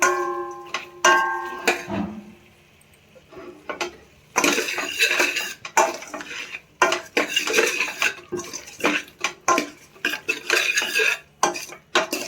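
A spoon stirs veg pulao with meal maker in a metal pot, scraping and clinking in irregular bursts, with a short quiet pause early on and no talk.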